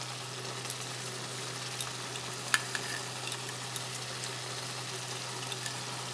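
Masala okra with shrimp frying in a pan, a steady soft sizzle with occasional light scrapes of a spoon stirring, quiet and close, no talking.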